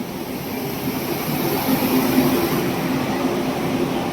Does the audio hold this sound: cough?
no